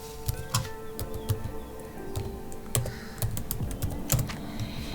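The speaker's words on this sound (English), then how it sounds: "on the web address bar, you want to type in TinyTask" Someone types on a computer keyboard into a browser address bar. The keys click in irregular, close bursts over a faint background hum, and nobody speaks.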